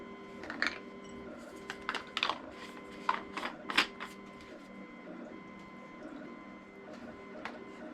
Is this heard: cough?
no